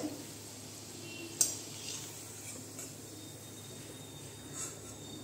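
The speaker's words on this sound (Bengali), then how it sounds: "স্টিমটা কমিয়ে দিয়েছি, আস্তে আস্তে ভেজে নিব।" Onion pakoras frying slowly in oil over low heat, a faint soft sizzle with a single clink of a utensil near the start and light scraping, no talking.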